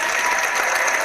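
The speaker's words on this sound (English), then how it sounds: "Thank you all for a round of applause." A round of applause from a crowd, dense and steady, with continuous bright clapping filling the short moment at full volume.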